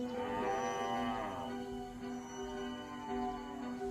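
Adult cattle lowing with a long, loud, droning moo that holds steady and then tails off, heard up close with no talk over it.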